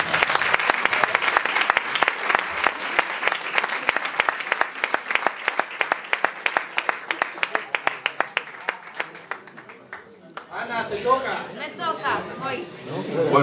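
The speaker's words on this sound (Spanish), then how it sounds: "Un aplauso para el Nadir." Audience at a tribute concert applauds a performer with loud, sustained clapping that thins into scattered claps and fades, followed by a voice speaking.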